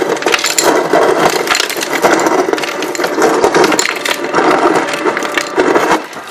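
A GE Slate refrigerator's door dispenser pours crushed ice in a continuous, loud clattering rush of crunching and rattling, close and with no talk over it.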